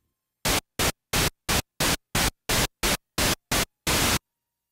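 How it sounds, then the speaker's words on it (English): Eleven short bursts of hissing pink noise from an ARP Odyssey synthesizer, evenly spaced with a slightly longer final burst, each starting and stopping abruptly against silence. "Select pink noise with the flip of a switch."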